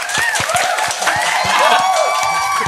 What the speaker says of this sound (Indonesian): Mari kita tepuk tangan lagi.